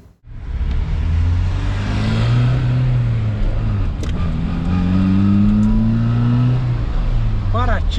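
A Volkswagen Parati's 1.6-litre AP engine revs up and holds at a steady drone, dipping briefly and climbing again, loud and close throughout.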